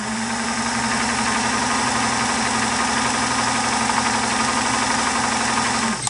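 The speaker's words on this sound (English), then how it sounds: "I like to just go ahead and run the motor because it turns the crank a lot more" A Singer 327K sewing machine's motor runs steadily, driving the crank in a loud, close, continuous mechanical whir with a low hum and a fast rattling beat that never lets up.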